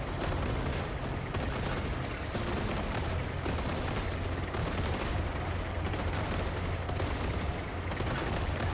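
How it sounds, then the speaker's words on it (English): Sustained, rapid machine gun fire from a vehicle-mounted weapon in a wasteland vehicle-building base defense game, loud and continuous with dense overlapping bursts throughout. "the machine gun rips."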